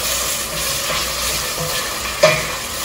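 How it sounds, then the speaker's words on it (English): Chopped onions frying and being stirred in a hot pan for Ghana jollof, a steady close sizzle with soft scraping and a brief clatter of the spoon near the end. "right now I'm frying my onions for just like 30 seconds"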